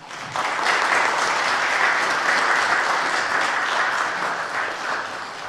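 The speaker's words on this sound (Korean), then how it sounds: "우리 박수로 영광 돌리며 환영하겠습니다." A congregation at a Sunday morning church service welcomes a guest preacher with applause that starts abruptly, holds full and even, then eases a little toward the end, with no one speaking.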